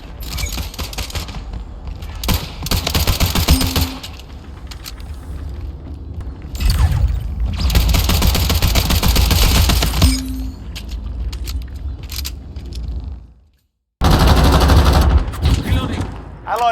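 Handgun fire in a video game montage: bursts of loud, rapid pistol shots crackle in clusters with short pauses and a brief silent gap, mixed with game effects and occasional voices.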